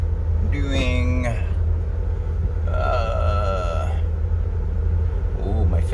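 A boat engine holds a steady 1100 RPM while cruising down a river, making a deep, constant droning rumble close by, with someone talking over it at intervals.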